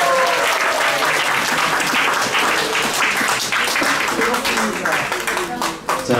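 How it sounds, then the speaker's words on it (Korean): A church congregation at a Sunday service applauds to welcome Janghun, a young man who uses a wheelchair. The clapping is full and sustained from a roomful of people and fades slightly near the end. "장훈이를 박수로 환영하겠습니다."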